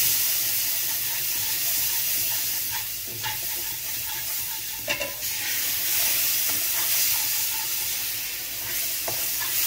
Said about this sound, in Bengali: এখন আমি পানি দিব পানি দিয়ে দ্রুত লাড়মু যাতে গুটি না ধরে